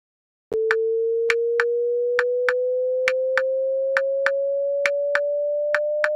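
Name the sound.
Audacity generated rising sine wave tone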